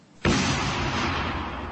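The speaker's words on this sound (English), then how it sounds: "This is a British explosion." A sudden explosion sound effect bursts in after a brief quiet, one loud broadband blast that rumbles on and slowly fades.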